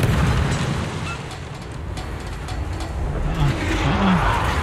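Heavy booming cannon broadside striking a ship in a naval combat video game, rumbling explosions with a dense low roar under the engine and sea noise.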